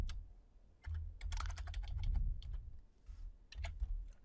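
Keys clatter in quick irregular bursts as MATLAB code is typed on a computer keyboard, close and fairly quiet, with short pauses between runs of keystrokes and no talking.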